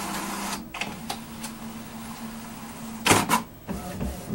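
A Canon Maxify iB4050 inkjet printer hums steadily as it prints test sheets, broken by a few sharp mechanical clacks and a louder clatter as paper feeds through.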